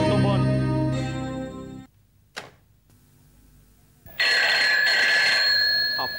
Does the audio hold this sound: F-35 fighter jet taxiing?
no